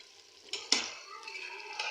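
Cooked mixed vegetable sabzi is stirred together with fresh coriander and chillies in a pan. Soft, quiet scrapes and stirring sounds follow one another, with one sharper scrape near the start.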